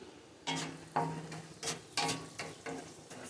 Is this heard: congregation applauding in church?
no